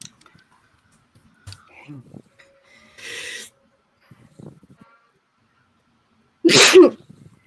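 A single sharp sneeze bursts out near the end after quiet breaths and small clicks, close and loud in a quiet room.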